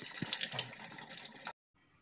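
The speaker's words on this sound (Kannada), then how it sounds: "ವಾಷಿಂಗ್ ಮೆಷಿನ್ಗೆ ನೀರು ತುಂಬುವಷ್ಟೊತ್ತಿಗೆ" Water rushing into a washing machine during a home evening laundry routine: a steady close hiss of running water for about a second and a half, cutting off abruptly into near silence.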